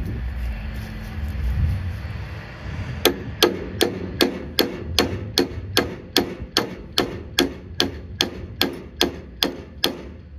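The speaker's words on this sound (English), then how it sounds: "Let me get a bigger hammer." A hammer strikes metal in a steady rhythm, about sixteen sharp, ringing blows, close by after a few seconds of low rumble, while building a pig processing tripod.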